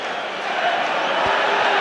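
A large football crowd at Old Trafford's Stretford End during Manchester United versus Arsenal in the Premier League, a steady, dense roar of frustrated fans throughout, with one brief low thump partway through.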